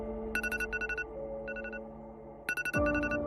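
An alarm rings in repeated bursts of bright electronic beeping tones, groups of short pulses separated by brief pauses, loud and close over a steady low background hum, with no talking.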